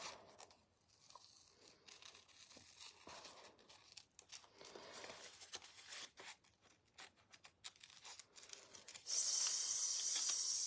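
Paper for a layered collage is snipped with scissors and torn by hand: soft, close rustling and crinkling with scattered sharp snips, ending in a louder steady tearing hiss.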